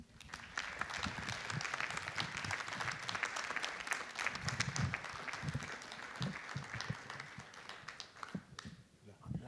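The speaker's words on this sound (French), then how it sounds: "Je vous demande d'applaudir chaleureusement Monsieur Luigi Moio" Audience at an event for Luigi Moio, president of the OIV wine organisation, applauding warmly: dense, sustained clapping from a sizeable crowd lasting throughout, easing off just before the end.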